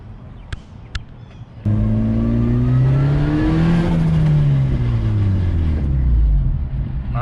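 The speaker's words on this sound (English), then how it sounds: "My fucking trans is so loud." A Volkswagen Jetta with a failing, noisy transmission drives off with a loud engine drone and rising gear whine that climbs through the revs, close and dominant after a few faint clicks.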